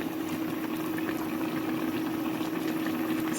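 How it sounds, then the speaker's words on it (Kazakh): Water boils in a pot on the stove during cooking, a steady bubbling roar with a low continuous hum and no speech. "Қайнап жатыр."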